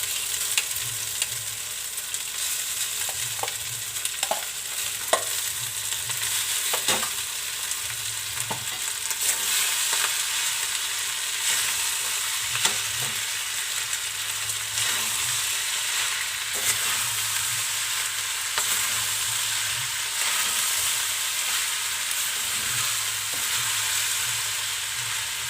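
Rice and vegetables are stir-fried for street-style veg Schezwan fried rice. A steady, loud sizzle runs throughout, broken by scattered clinks and scrapes from the spatula against the pan, with no talking.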